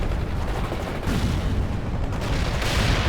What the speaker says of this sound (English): Fire the missile immediately!